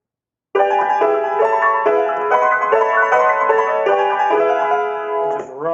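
A piano begins after a short silence and plays continuous rapid repeated figures depicting fluttering birds in Ravel's Oiseaux Tristes, close and sustained at a steady level, ending with a softer low note.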